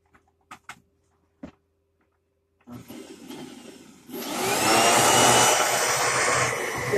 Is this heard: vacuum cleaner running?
yes